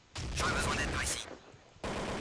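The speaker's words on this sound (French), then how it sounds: "ça tire de partout là" Rapid gunfire in Counter-Strike: Condition Zero on the Havana map: a dense burst of shots for about a second, a quieter gap, then another burst beginning near the end, with some speech mixed in.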